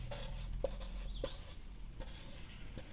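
Letters being written by hand on a board during a Hindi grammar lesson: a few short scratchy strokes and taps, close and fairly quiet, with no one talking.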